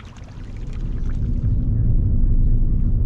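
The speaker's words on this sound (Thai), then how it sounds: "ที่นี่มีน้ำไหลผ่านตลอดครับ" Water flows continuously past a cafe in Chiang Mai during the rainy season, a heavy low rushing roar that swells slightly and then holds steady, with no speech.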